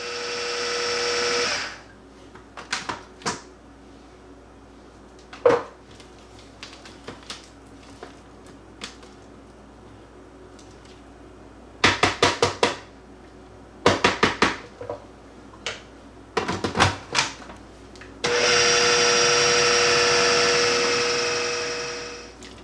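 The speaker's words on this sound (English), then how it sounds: "I'm going to process this until it's smooth as well" Food processor blending a ginger and pepper mixture, a loud motor whir at the start, then bursts of short pulses and clatter of scraping, ending in another sustained close whir.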